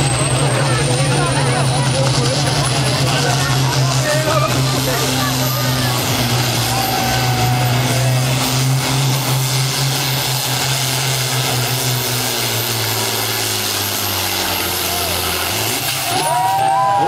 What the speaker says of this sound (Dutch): En we gaan dus optoeren naar de max van de 2700 toeren.